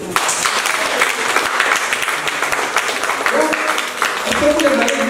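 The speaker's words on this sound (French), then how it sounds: "Alors on va applaudir les grandes sœurs aussi." Audience applause for the older sisters at a local event, dense clapping from a close crowd with voices mixed in, continuing steadily and lifting slightly near the end.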